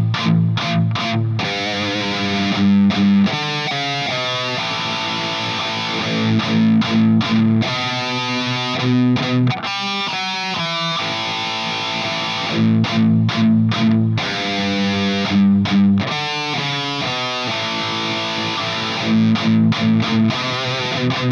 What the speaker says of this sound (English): I'll share the riffs that I'm playing here